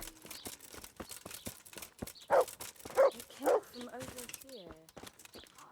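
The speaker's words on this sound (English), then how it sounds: "That's a dog barking." Three sharp dog barks ring out in a row near the middle, set against a busy background of video game noise from Kingdom Come: Deliverance and scattered clicks.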